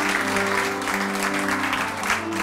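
Audience applause welcoming visiting film teams at a film festival gathering, a sustained, even roar of many people clapping with a low background hum, steady and moderately loud throughout.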